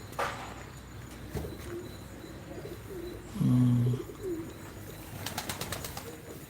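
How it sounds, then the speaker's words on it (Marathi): A pigeon coos in a short, low burst at a stable in Bangalore, close and clearly above a steady outdoor background hum with a few faint chirps. "इथलाच कबूतर मला बघायला भेटत"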